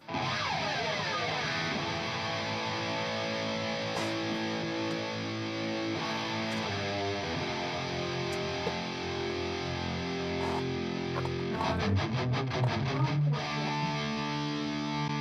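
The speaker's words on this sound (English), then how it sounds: "it's got a very, very short delay mixed in. And I picked the Boss DM2, the analog delay for that" Distorted lead electric guitar for a German pop-punk mix, run through a very short Boss DM2 analog delay, playing a continuous sustained line at steady loudness with no voices.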